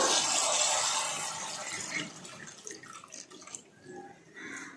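Water pours and splashes into a pan of Kerala-style fish curry, a hissing gush that gradually tapers to softer trickles and drips.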